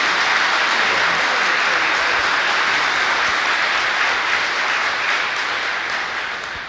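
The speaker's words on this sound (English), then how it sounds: "let's give the choir another round of applause" Sustained applause from an audience for a choir at an Armed Forces Day ceremony, a dense, steady wash of many hands clapping close and loud, tapering slightly at the end.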